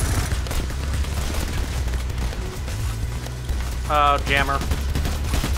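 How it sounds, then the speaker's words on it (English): A sentry turret in the video game Payday The Heist fires continuously, a dense rattling spray of gunfire filling the whole stretch at a steady level, with a voice cutting in briefly near the end. "the turret, like, locks onto shields and just sprays into it even though it does nothing"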